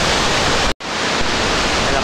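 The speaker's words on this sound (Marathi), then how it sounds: "त्या धबधब्याच्या मागे जाता येते" A waterfall near Satara pours in a loud, continuous close-up rush, cut by a sudden near-silent gap of a fraction of a second before the roar resumes at full strength.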